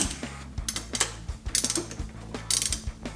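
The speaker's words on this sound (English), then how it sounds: "Time to torque everything down." A ratchet wrench clicks in quick bursts while torquing down engine bolts on a 1992 Mitsubishi Galant VR-4, repeated close ratcheting strokes with short pauses between them.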